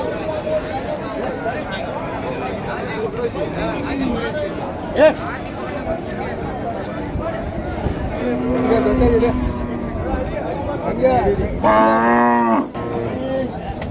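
Cattle moo loudly at a busy outdoor native-breed cattle market in Kundarapalli, with one long low call near the end, over a constant hubbub of people talking and milling about.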